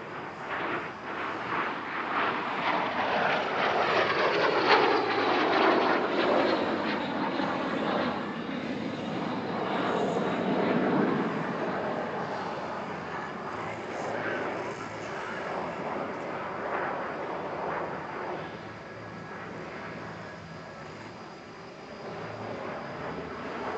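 Aerobatic team aircraft fly in formation over an airshow at Paris-Villaroche, with engine drone swelling as they pass and slowly fading into the distance.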